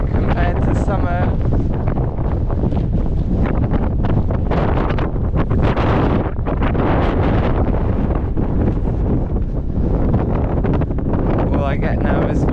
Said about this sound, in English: All I get now is wind.